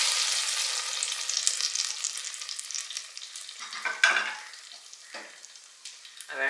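A pan of sweet pongal with melted jaggery and fried dry fruits being stirred, with steady scraping and soft sizzling that swells into a few louder stirring strokes near the end; no voices.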